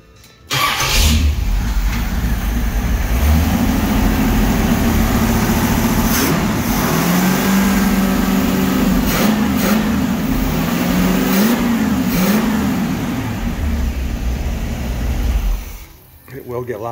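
Car engine fitted with a Jegs mini starter cranks and fires, then idles and revs in several rising and falling swells, loud and close throughout before cutting off near the end.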